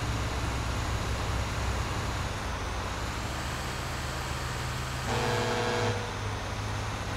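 Garbage truck horn in Grand Theft Auto V sounds one short blast near the end, over a constant loud rumble of engine and road noise.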